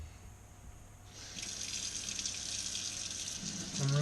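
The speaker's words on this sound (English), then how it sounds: "I'm rinsing it." Running tap water pours steadily over a soapy GEC 77 pocketknife being rinsed at a sink, the flow growing louder and brighter partway through and continuing without speech.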